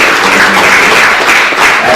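Audience applause at a forest certification conference session in Bali, a dense, continuous wash of clapping from a crowd, fairly loud and steady for a couple of seconds with no talk.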